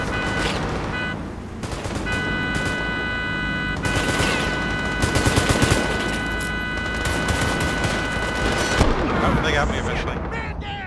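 Heavy gunfire and distant explosive booms from a World War 3 battle in the Smolensk warzone, bursts of rifle shots layered over a continuous rumbling battlefield din, with players talking over it.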